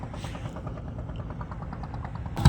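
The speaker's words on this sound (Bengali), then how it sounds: "এই দেখতে পাচ্ছি ইঞ্জিন নৌকা আসছে" A steady motor drones with a rhythmic chugging throb, like an engine boat approaching on a Sundarbans river at moderate distance, with a sudden clunk at the very end.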